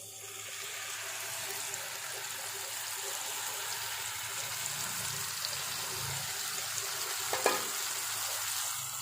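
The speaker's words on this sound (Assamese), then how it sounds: "এতিয়া মই সৰিয়হৰ পেষ্টখিনি ইয়াত ঢালি দিম।" Mustard paste is poured into hot oil in a pan for an Assamese mustard fish curry, giving a steady, fairly faint frying sizzle throughout, with one short scraping clink near the end.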